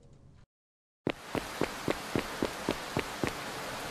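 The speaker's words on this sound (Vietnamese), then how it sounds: "Mưa nắng bất chợt quá." A sudden rain shower bursts in after a moment of silence, a steady close hiss of rain on a surface punctuated by regular sharp drops or taps, loud and continuous with no talking.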